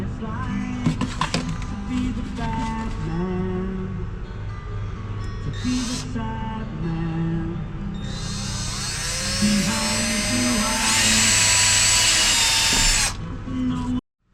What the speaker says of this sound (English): I'm just going to drill a hole through there